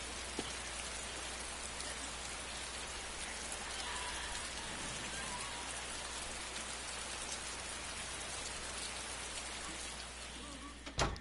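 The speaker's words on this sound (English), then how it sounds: "It's a nice rain." Steady rain pours continuously, a dense even hiss of drops on surfaces with no voices, ending in a brief bump.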